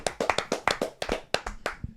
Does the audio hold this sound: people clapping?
yes